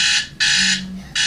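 Electronic alarm beeping in loud repeated bursts, each tone lasting about a third of a second with short gaps, heard alone.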